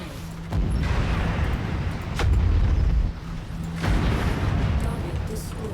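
Mechwarrior 5 battle with enemy fire striking nearby: sharp cracks and rumbling explosion booms over a heavy mechanical drone, a few distinct hits spread across several seconds.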